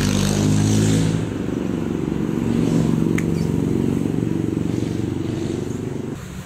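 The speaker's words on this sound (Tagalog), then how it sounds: "kaya medyo maingay dahil maraming dumadaan na sasakyan." Road traffic outside a roadside house's front yard, with a motor vehicle engine rumbling steadily and loudly close by as vehicles pass, with no talking.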